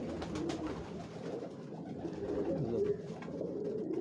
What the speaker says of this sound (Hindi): ये जी हमारे प्रिंस कबूतर है जी, शहजादे कबूतर जी